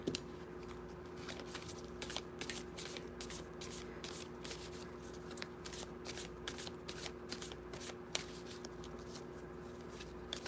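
Tarot cards are shuffled by hand in a rapid run of crisp riffling bursts, close and fairly quiet, with faint voices in the background.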